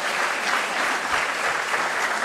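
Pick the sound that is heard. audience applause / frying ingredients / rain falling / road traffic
audience applause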